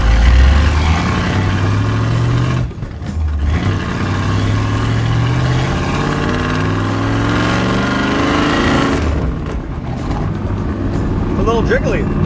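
Dan Gurney's 409ci American muscle car engine runs loud and close with a steady deep rumbling drone, briefly dipping and rising in revs, while voices talk over it.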